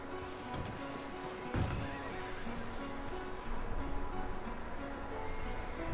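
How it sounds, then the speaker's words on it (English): Horses neigh and whinny with clip-clopping hooves in the open-world western game Red Dead Redemption 2, a steady outdoor ambience with a louder hoof burst midway, no talking. "Micah, go bring the horses closer to the house."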